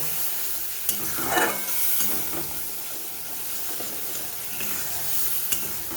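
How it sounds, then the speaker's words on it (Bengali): Ginger, green chilli and a paste of salt, turmeric and dry spices sautéed in a pan for a potato curry served with kachori, a steady close sizzle with scraping stirs and occasional utensil knocks. "এবারে আমি ভালো করে কষিয়ে নেব"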